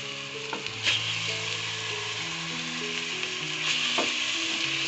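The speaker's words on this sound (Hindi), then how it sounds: "इसी के साथ हम ऐड करते हैं कीमा।" Minced meat keema fries in a pan with spices, giving a steady close sizzle broken by a couple of stirring scrapes, under a faint tonal background and no talk.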